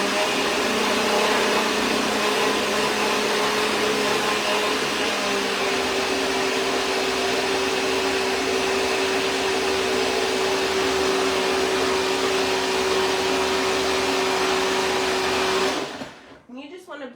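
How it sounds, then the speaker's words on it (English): A blender whirs loudly and steadily as it purees a green smoothie for about sixteen seconds, then cuts off abruptly, leaving a faint tail. "Blend it till it's smooth,"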